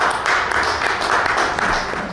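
Audience applause at a horror-themed literary gathering, a dense continuous wash of clapping from a room full of people, steady and fairly loud throughout.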